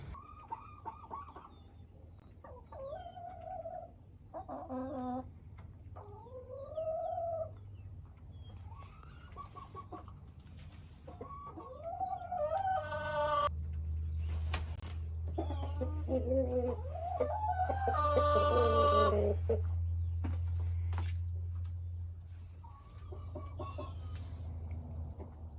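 Chickens cluck and call inside a modified Tractor Supply chicken coop, a series of close, varied clucks and squawks over a steady low hum, growing busier and louder toward the middle.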